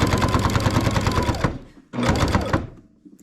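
A Baby Lock Jazz II sewing machine stitches quilt binding in two close, loud bursts of rapid rhythmic needle chatter, separated by a brief pause and trailing off at the end.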